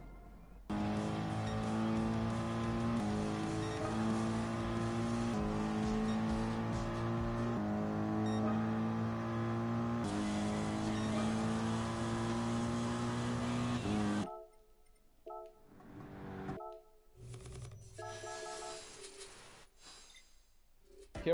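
A race car in the GT Sport video game drives with stock final gear, its engine droning loud and steady as it rises through the gears, then cuts out into quieter gear shifts and revving near the end.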